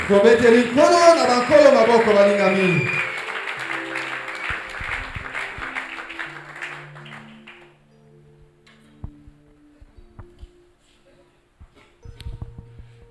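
A church congregation applauds and cheers loudly during a Sunday service, the clapping fading out after a few seconds and leaving faint scattered sounds.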